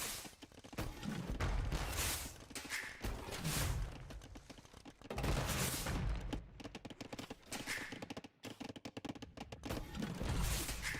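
Rocket carts launch volleys at a town center in the real-time strategy game Age of Empires, quick rippling blasts and thuds in busy battle noise, fairly faint.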